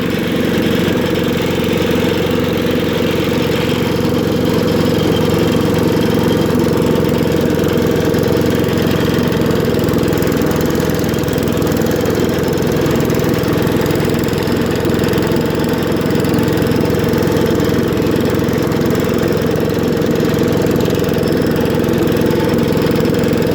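A Wheel Horse Wheel-o-matic 875 hydrostatic riding lawnmower engine runs steadily at idle for a long stretch, a loud, close, even droning rumble with a faint rattling knock throughout.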